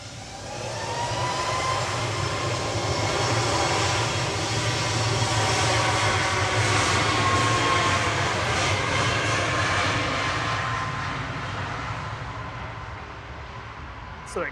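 A Boeing 737 Max 8 departing Manchester Airport builds to a broad, steady jet roar that peaks mid-way and then tapers off as it climbs away into the distance.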